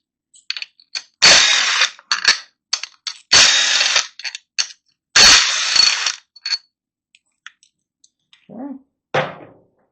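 A driver winds out 6mm motorcycle clutch cover screws with 8mm heads, giving loud, close bursts of ratcheting clicks with short pauses between them and a few quieter clicks and scrapes near the end.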